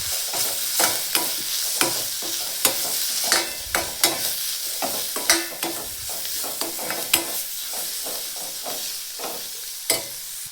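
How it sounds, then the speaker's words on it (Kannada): Sambar powder, coriander powder and garam masala being stirred in a sizzling pan for methi dal, with repeated sharp spoon scrapes and knocks over a constant frying hiss, close and without talk. "ಗರಂ ಮಸಾಲ ಮಿಕ್ಸ್ ಮಾಡ್ಕೊಳ್ಳೋಣ್ರಿ ಚೆಂದಿಗೆ"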